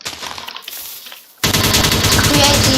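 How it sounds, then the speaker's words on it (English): TNT blowing up in a Minecraft Bedrock Edition game, a sudden loud burst of dense crackling blasts that starts about halfway through and keeps rumbling to the end, after a quieter rustle of noise. "Create the explosion sound in Bedrock Edition"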